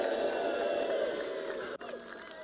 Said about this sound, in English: From here over, you boo. From here over, you cheer